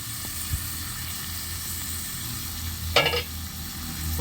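Curry leaves, coriander and other fish kulambu ingredients sauté lightly in a pan, a steady soft sizzle with a brief scrape of stirring near the end, close and fairly quiet.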